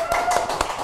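Event crowd celebrating prize winners gives a few quick, sharp claps in a short burst, with a host's voice talking over them.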